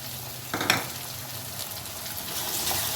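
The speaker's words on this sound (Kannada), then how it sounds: "ಇದು ಚೆನ್ನಾಗಿ ಸಾಫ್ಟ್ ಆಗಬೇಕು ಟೊಮೆಟೊ, ಅಲ್ಲಿವರೆಗೂ ಹುರ್ಕೋಬೇಕು ಇದನ್ನು." Native tomatoes fry in a pan for mutton fry, a soft continuous sizzle with one brief stirring scrape near the start, close and fairly quiet, no speech.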